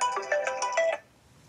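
A phone rings in the video game Uncharted 4: a bright, warbling electronic ringtone sounding in quick repeated bursts for about a second before cutting off, fairly close and clear.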